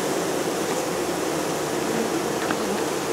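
Honey bees from a package swarming and buzzing while being installed into a hive, a dense steady drone heard up close throughout, with no talking.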